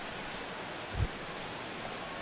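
Rain falls in a baseball video game set at a Nationals at Braves opening-day game, a steady, even hiss throughout with one soft low thump partway through.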